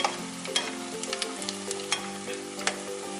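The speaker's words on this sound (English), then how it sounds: "So oil should be about 375 degrees for the proper frying" Akara bean fritters frying in hot oil at about 375 degrees over medium heat, giving a steady close sizzle with occasional sharper pops and crackles, and no talk.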